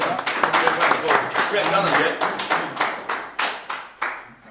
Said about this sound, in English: I think a round of applause to Austin.